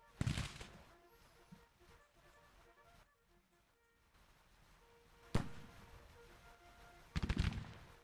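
Sharp cracks of infantry gunfire in the Civil War game Grand Tactician, a few separate volleys spaced seconds apart and fairly loud against a quiet battlefield background, with a low-level voice under the shots.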